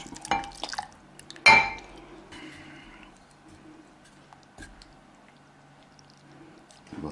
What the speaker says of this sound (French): On va tranquillou, on mélange la crème bien chaude.